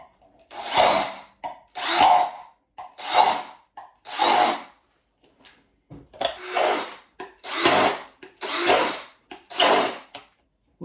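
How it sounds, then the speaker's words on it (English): A power drill bores into a plastic food pot in repeated short bursts, about nine whirring, grinding runs separated by brief pauses, close and fairly loud with no talking. "to hold the pot at the top and to drill inside it like this"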